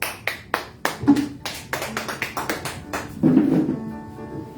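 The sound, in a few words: congregation applauding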